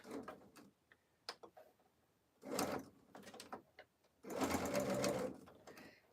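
A sewing machine stitching slowly around a fabric corner in needle-down position, with short intermittent bursts of mechanical whirring and clicking, fairly close and quiet, separated by gaps with small handling noises.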